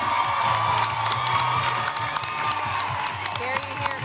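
Enthusiastic crowd of supporters cheering, whooping and clapping continuously at a Florida governor's election victory speech, a dense roar of many voices with sharp shouts on top throughout.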